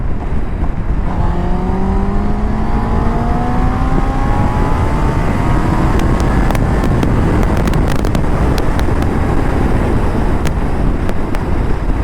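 A Honda CB650R motorcycle cruises on an open highway, its engine a steady drone buried under heavy, constant wind rush, with a faint rising engine whine early on and no talk.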